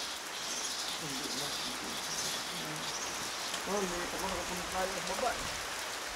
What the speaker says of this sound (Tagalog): Sana humupa yung ulan para masilip natin ng gusto.